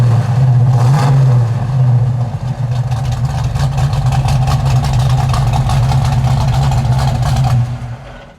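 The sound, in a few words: 1972 Plymouth Cuda 340 V8 exhaust rumble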